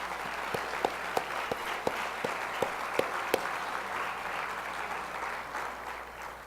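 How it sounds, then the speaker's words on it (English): Conference audience applauding the board of directors at a 2018 political gathering, a moderately distant, even patter of clapping with a few sharper individual claps, sustained for about six seconds. "you need to give them a round of applause"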